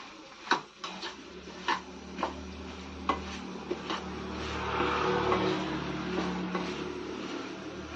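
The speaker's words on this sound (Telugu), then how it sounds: "ఇప్పుడు దీన్ని బాగా కలిపెట్టుకుందాం." A ladle stirs drumstick sambar seasoned with salt, tamarind pulp and sambar powder in a pot, making a series of sharp clinks and scrapes against the metal, then a wetter swirling stir near the end, with no talking.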